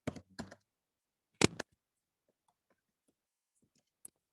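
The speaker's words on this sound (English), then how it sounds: "Hope I type things in right?" Keys on a computer keyboard are struck close by in a few short bursts of crisp clicks, separated by quiet pauses, with a couple of faint isolated taps toward the end.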